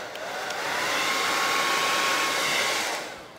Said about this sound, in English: Before you wipe the hairs off, you should hit the dryer.